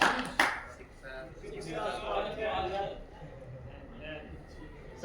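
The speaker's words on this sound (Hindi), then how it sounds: "ताली बजाओ, सही बोला है" A group of people clapping their hands together on cue at a training session, a dense burst of applause that rises sharply near the start and carries on as a steady patter under and between spoken voices.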